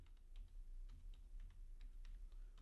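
Java code is typed on a computer keyboard in a rapid, uneven run of light key taps, close and clear, over a low background hum with no speech.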